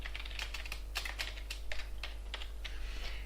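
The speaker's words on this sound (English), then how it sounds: "I can type x equals input number" Rapid keypresses on a computer keyboard, a quick uneven run of soft clicks and taps at close range over a faint low hum, with no talking.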